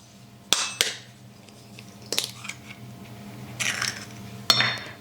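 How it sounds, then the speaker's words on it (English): Eggs being cracked and broken into a dish: several sharp, distinct taps and clicks of shell against the rim, spaced a second or so apart, with soft handling noise in between. "I'm going to break the eggs into a dish just in case there are any issues with the eggs"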